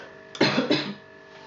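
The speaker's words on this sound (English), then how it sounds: "Sorry, I'm going to cough." Two sharp coughs in quick succession, close and fairly loud, followed by quiet room tone.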